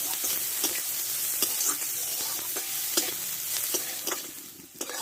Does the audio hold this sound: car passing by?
no